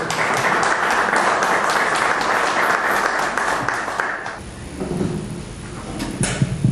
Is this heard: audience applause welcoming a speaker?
yes